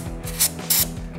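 Two short, sharp hisses of cleaner sprayed onto the chain of a 2019 Kawasaki Ninja ZX-6R motorcycle, close by, over a low mechanical hum.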